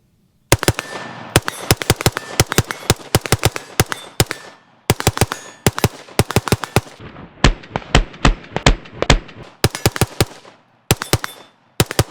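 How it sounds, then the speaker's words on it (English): An AR15 rifle fires at an outdoor range, loud sharp shots in rapid bursts and strings of single rounds, echoing between volleys with short pauses. "Let's get a couple hundred more rounds downrange."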